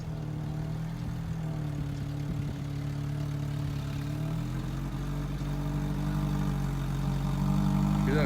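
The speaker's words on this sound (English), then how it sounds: "Hear that exhaust?" A Ford SVT car engine idles with a low, steady exhaust rumble that grows slightly louder and deeper toward the end, close by with no talking.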